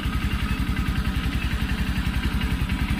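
A first-generation Honda Supremo motorcycle engine idles steadily after a gasket repair, a close, even, rapid low thumping pulse with a light mechanical clatter and no talking.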